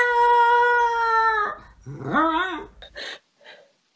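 A dog howls in a long, sustained, wavering tone for about a second and a half after being told to sing, then breaks into shorter rising yowls and whimpers that trail off, close and clear with no talking.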